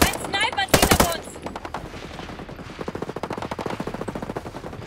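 Gunfire in the video game Ghost Recon Breakpoint during a sniper attack: a loud burst of closely spaced shots near the start, then a long, steady run of rapid rhythmic shots at a slightly lower level.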